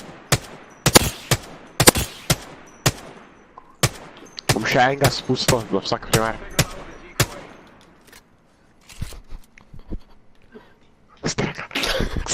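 Gunfire rings out in the Apex Legends video game: sharp, loud single shots and rapid bursts, some close and some farther off, crack repeatedly across the scene while players talk over the action.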